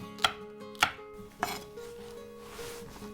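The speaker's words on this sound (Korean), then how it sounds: "홍고추는 꼭지만 떼어주고 그냥 대충 잘라주죠" A kitchen knife chops red chili peppers for kimchi on a board, making three sharp, close knocks in a quick row before a quieter stretch of faint handling.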